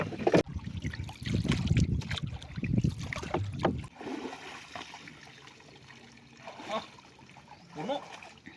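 A basket of freshly caught fish is tipped out in a wet, splashing rush of water and slithering fish for a few seconds, then quieter trickles and shuffling follow while people talk nearby.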